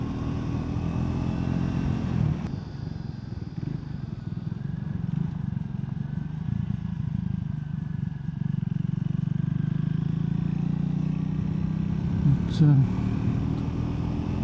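A Triumph Speed 400 motorcycle being ridden, its mid-range engine droning steadily and close throughout, with a brief rise in revs near the end.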